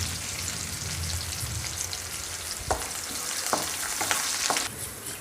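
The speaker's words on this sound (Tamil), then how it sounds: "இப்போ இது வந்து நல்லா ஃப்ரை ஆகட்டும்." Garlic, green chillies and curry leaves fry in oil for dhaba-style dal fry, making a steady crackling sizzle with several stirring scrapes and clinks in the second half. Nobody speaks.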